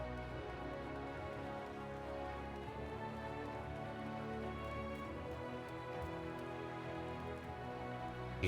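Steady rain falls in the Final Fantasy XIV game world, a soft, even patter that holds unbroken at low volume with no voices.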